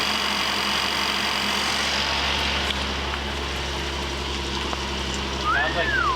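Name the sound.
flood-damaged car engine idling with vacuum leak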